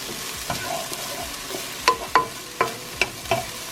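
Onions brown in a pan with a constant soft sizzle, broken by a series of crisp, close spatula clicks and scrapes against the pan, several in quick succession.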